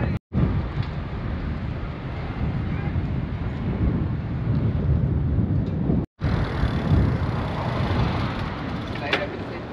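Strong wind buffets a microphone on the deck of a ferry from Livorno to Olbia, a loud continuous roar with low engine rumble beneath and two abrupt momentary dropouts.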